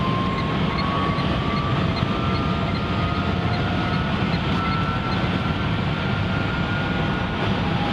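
A Renault Twizy 80 Technic electric car accelerates toward 80. A thin motor whine climbs slowly in pitch over a constant, dense rush of road and wind noise.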